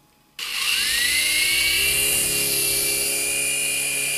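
In the Tintin video game a rescue helicopter starts up abruptly after a short silence, its whining turbine rising in pitch and then holding a loud, steady, high roar for several seconds.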